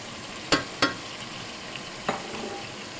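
Shrimp and squid frying in a pan for a jackfruit dish, a low steady sizzle broken by three sharp clinks of stirring, two close together and one a moment later.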